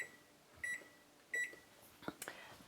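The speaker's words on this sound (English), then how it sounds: "And we're going to put the timer on for 30 minutes." An oven timer beeps as it is set for a 30-minute bake, with two short bursts of electronic beeps followed by clatter and handling noise in a home kitchen.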